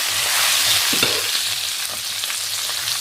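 Meat sizzling steadily as it goes back into a hot pot with chili peppers, a dense continuous hiss and crackle with faint stirring and no talking.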